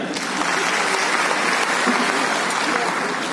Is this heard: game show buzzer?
no